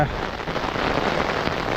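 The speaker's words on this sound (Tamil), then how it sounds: "இப்போ திடீரென்று மழை பெருத்துட்டுது" A sudden heavy downpour by the sea roars as a dense, even hiss of rain, loud and unbroken throughout the short stretch.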